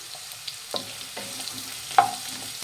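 Green chili and ginger fry in a pan for radish chutney, a soft, quiet sizzle with a few light taps and a clink of the spoon against the pan, no voices.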